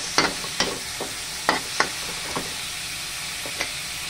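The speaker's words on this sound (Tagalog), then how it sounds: "Stir fry muna natin ito at bali palabasin lang natin ang kanyang fats" Meat stir-frying in a pan to render its fat, with a low steady sizzle broken by a few sharp scrapes and stirring clatters spaced irregularly through the clip, close and fairly quiet.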